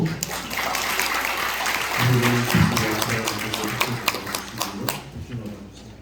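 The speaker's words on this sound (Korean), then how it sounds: "박수 한번 해요" Wedding guests applauding inside a church during the vows of a Christian ceremony, a steady wash of clapping filling the room with a brief low burst of organ or voice partway through.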